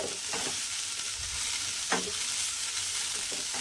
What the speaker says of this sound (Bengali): এইভাবে কিন্তু থোড়টাকে এবার নেড়ে নেড়ে রান্না করে নেব।